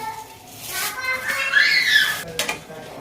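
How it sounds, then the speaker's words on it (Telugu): Washed rice tipped into a pot of bubbling water with coriander and stirred, giving metallic scraping and clinking of a spoon against the pot alongside a watery swish, close and fairly loud. "బబుల్స్ వస్తున్నాయి కదండి ఇప్పుడు బియ్యం దీంట్లో వేసేస్తాము"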